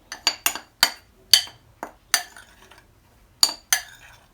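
A metal spoon clinks sharply about ten times against a bowl or container while spoonfuls of baking powder are measured out for an economical three-layer chocolate cake, with bright, close taps coming in quick, irregular bursts.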